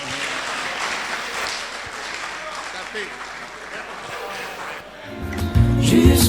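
Seminar attendees at a francophone Christian radio gathering applaud after adopting a text, a steady wash of many clapping hands that fades as music begins.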